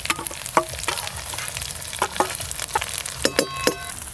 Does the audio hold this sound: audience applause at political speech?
no